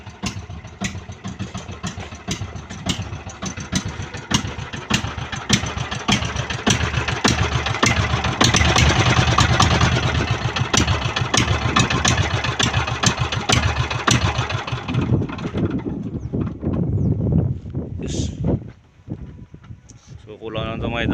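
A small wooden boat's engine runs on test after repairs, a close, loud rhythmic chugging with sharp periodic knocks that continues for most of the stretch before fading and then rising again, while someone talks over it.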